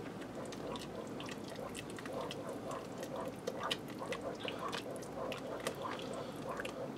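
Shredded cheese being stirred into a chicken fajita casserole in a Ninja Foodi, making a steady, close, wet squishing and sloshing that carries on throughout without speech.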